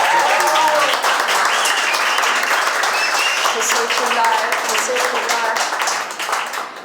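A studio audience on a Turkish television comedy show breaks into loud, continuous applause and clapping as birthday girl Derya is welcomed on stage, with voices mixed into the clapping.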